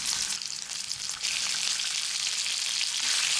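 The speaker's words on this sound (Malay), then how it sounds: "Bila minyak panas, tumiskan hirisan bawang putih sehingga layu dan berbau harum." Sliced garlic and salami fry in hot oil in a pan for spaghetti aglio olio, giving a loud, continuous crackling sizzle with no pauses and no voices.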